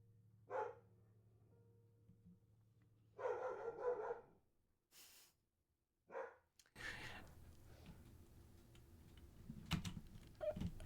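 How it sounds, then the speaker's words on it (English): Dogs barking outdoors in snowy mid-coast Maine, a few separate bursts spaced apart at moderate distance, followed by a steady rumble of passing snowplows. "The dogs are barking again."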